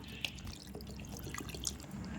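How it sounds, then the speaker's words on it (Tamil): Water poured into a cooking pan while preparing chicken for shami kabab, a soft continuous trickle with a couple of brief drip-like splashes, close and quiet, with no talking. "இப்போ இங்கே கொஞ்சம் தேவையான அளவு தண்ணி ஊற்றிக்கிங்க"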